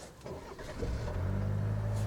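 A 2025 Chevrolet Colorado Z71 pickup engine is started: a short crank, then the engine catches and settles into a steady, close, low idle rumble.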